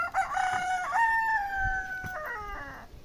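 A rooster crows once at close range among farm chickens, a long rising-and-falling cock-a-doodle-doo carried over a low rustling background, with no talk.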